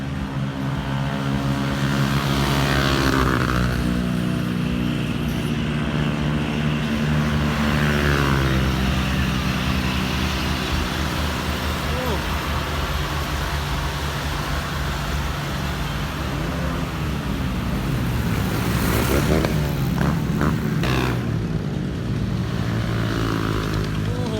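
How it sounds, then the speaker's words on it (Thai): Three tractors and road graders drive past in a procession at a merit-making parade in Phu Sing, Sisaket, their engines droning continuously and loudly with low rumbling and occasional louder surges, no talk. "บนนี้รถไถครับ เป็นรถเกรด สามคันกันเลยครับ"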